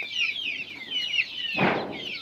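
A free-range country hen clucks and chatters in short rising calls, with a burst of wing flapping or scuffling near the end.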